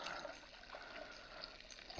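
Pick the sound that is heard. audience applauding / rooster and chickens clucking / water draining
water draining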